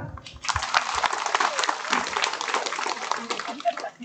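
Audience clapping at an Isra Mi'raj gathering in an Islamic boarding school, a steady crackle of many hands mixed with voices and chatter throughout.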